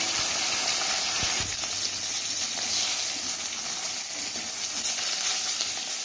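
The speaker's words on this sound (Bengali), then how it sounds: "মাথাটা একদম লাল লাল করে ভাজা প্রায় হয়ে এসছে" Fish heads sizzle steadily in hot mustard oil, a dense, even crackle and hiss that stays loud and close throughout, with a faint clink or two of a spatula early on and no voices.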